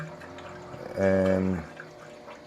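Water runs from a refrigerator dispenser through a Frigidaire PureSource Ultra filter, a soft trickle that swells into a louder, rising pour for about half a second before settling, with a person talking briefly.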